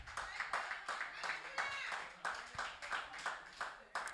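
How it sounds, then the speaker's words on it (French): Men in a church congregation clap in loose, rhythmic bursts, a few sharp claps repeating at a steady beat while voices speak and call out over them. "Applaudissez pour vous-même les hommes."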